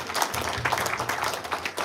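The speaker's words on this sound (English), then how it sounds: "a big round of applause for Bo" Audience clapping at a sports derby lunch, a brisk flurry of many hands close by, steady and unbroken through its short length.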